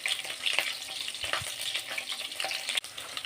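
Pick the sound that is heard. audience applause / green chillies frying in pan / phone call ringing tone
green chillies frying in pan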